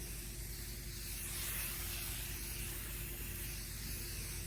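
A Sagola 4600 Xtreme spray gun hisses water-based paint onto a car panel in one continuous, even burst, fairly quiet and steady from start to finish.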